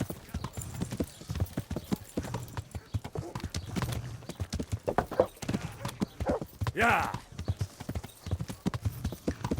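Horse hooves clip-clop in the medieval role-playing game Kingdom Come: Deliverance, a quick uneven patter running beneath frequent conversational speech, with a brief louder burst near the middle.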